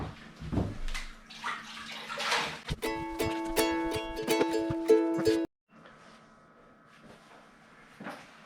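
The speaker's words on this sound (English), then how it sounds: "I'm gonna give a full bath to the shower one more time, give it a good rinse, dry it off" A shower being washed and rinsed with a sponge and water: splashing and running water, scrubbing and rattling knocks, then a sudden cut to quieter spraying, all close and fairly loud.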